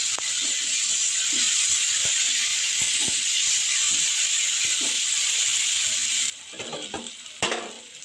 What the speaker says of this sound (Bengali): আদা রসুনটাকে এবার তেলের সাথে ভেজে নেব যেন কাঁচা গন্ধ না থাকে।